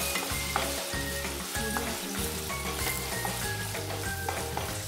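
Ground garlic frying in a pan for pav bhaji, a steady dense sizzle throughout with occasional stirring scrapes, close and loud with no talking.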